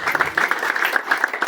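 Congregation in a church service clapping together, a steady patter of many hands, fairly close and loud, lasting only a moment.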